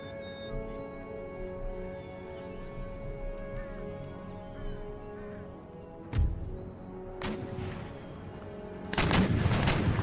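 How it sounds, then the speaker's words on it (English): Artillery fire from a fort in the Empire Total War battle game, a few scattered booms and a heavier burst near the end over a constant battlefield drone. "So I got artillery from the fort."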